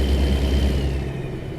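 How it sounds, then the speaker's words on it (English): A lorry engine in the American Truck Simulator game gives off a low, steady rumbling drone with a faint higher whine above it, heard alone and holding constant before easing slightly. "this lorry sounds terrible"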